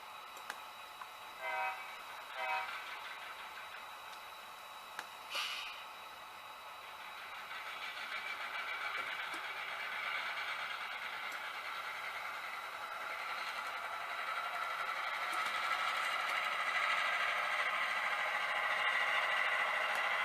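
A model railroad locomotive runs along layout track, a steady rolling hum that builds and grows louder over about twenty seconds, with a few brief clicks and knocks near the start.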